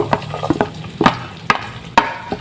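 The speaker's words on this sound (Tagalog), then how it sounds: "pag natunaw na po itong ating margarine, ilagay na po natin yung ating bawang" Garlic goes into melted margarine and fries while a utensil stirs it in a pan. Steady close sizzling runs throughout, broken by four or five sharp scraping knocks of the spoon against the pan. No voices.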